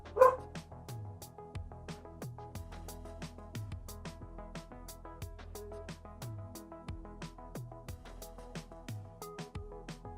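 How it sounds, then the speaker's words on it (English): A dog barking repeatedly indoors, steady rhythmic barks spaced closely over several seconds, moderately near and unaccompanied by speech. "he's still barking."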